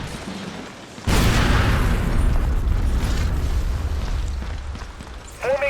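A grenade explodes in Ghost Recon Advanced Warfighter on the original Xbox. A sudden loud boom hits after a quiet second, then a long dense rumble fades slowly over several seconds, and a brief sharp sound rises at the very end.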